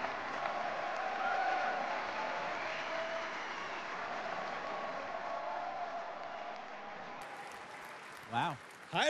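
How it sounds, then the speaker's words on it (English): A large audience at Star Wars Celebration cheers and applauds in a loud, sustained roar that slowly eases off. A brief voice cuts in near the end. "Hearing their cheer"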